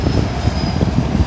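Close rumble of a BNSF freight train rolling past in Irondale, heavy low-frequency clatter and wheel noise filling the short stretch, with a faint high squeal near the end.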